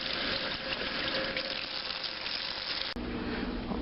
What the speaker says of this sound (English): I'll rinse the broccoli off.